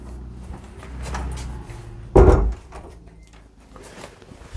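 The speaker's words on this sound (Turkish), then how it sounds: "Ben de kapıyı örteyim." A door in a detached seaside villa in Kuşadası shuts with a single loud, short thud midway, framed by faint room noise and soft movement before and after.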